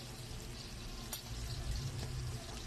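Onion and pork sizzle in a pan for chop suey, a steady close frying hiss with an occasional stir or clink, no talking.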